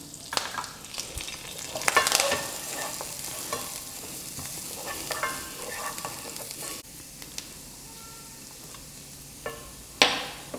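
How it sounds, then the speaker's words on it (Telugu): Chopped garlic and curry leaves fry in hot oil, giving a continuous crackling sizzle with intermittent spatula scrapes and clatter against the pan, close and moderately loud, with no speech. "చాప్ గార్లిక్ వేసుకొని కరివేపాకు వేసుకోవాలి కొంచెం ఫ్రై చేసుకోవాలి దీన్ని"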